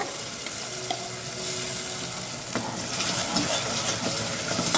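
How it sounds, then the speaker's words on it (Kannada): Freshly ground masala paste frying in a pan over medium flame, a steady close sizzle with stirring scrapes throughout, growing slightly busier toward the end, with no talking. "ನಾನು ಇವಾಗ ರುಬ್ಕೊಂಡ್ಬಂದಿರೋ ಮಸಾಲನ ಸೇರಿಸ್ಕೊಳ್ತಾ ಇದ್ದೀನಿ"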